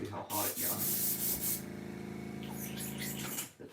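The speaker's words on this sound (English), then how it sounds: "I'll spray in my air compressors just to see how hot it got." Air compressor nozzle blasting air onto a freshly heat-treated crankbait, a loud continuous hiss with a sharp burst at the start, held steady for a few seconds before cutting off, with a faint voice nearby.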